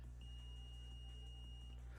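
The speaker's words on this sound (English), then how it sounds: "I don't know if you can hear that beeping" A steady high-pitched electronic beep tone rises from electrical test equipment on a workbench while an arcade power supply is being wired and tested, holding for about one and a half seconds over low mains hum.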